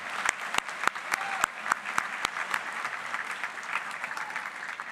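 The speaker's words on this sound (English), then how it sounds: "Let's give a big round of applause to our parents and caregivers." Applause for parents and caregivers at the Springfield Renaissance School 2023 graduation, a fairly faint crowd clapping with several sharp, distinct claps standing out near the start before settling into a softer, even patter.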